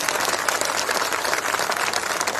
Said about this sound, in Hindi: उनके लिए मैं जोरदार तालियों की गड़गड़ाहट से स्वागत चाहता हूं सम्मानित साथियों